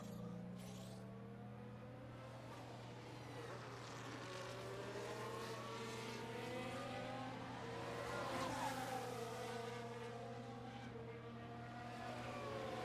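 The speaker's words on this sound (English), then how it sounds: "There goes the safety car." Safety car driving in the F1 Manager video game during a race at Abu Dhabi, a steady engine drone with shifting revving tones that swell slightly midway, continuous with no talk.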